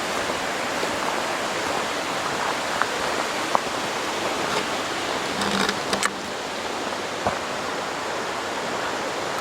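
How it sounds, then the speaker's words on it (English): Steady broadband rush of a creek flowing alongside the Glade Creek trail, running continuously at moderate level with a few faint clicks and taps scattered over it, no voices present. "Pretty awesome that this trail just follows that creek."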